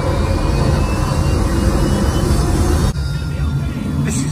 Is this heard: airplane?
yes